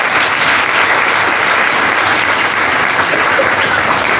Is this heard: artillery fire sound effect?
no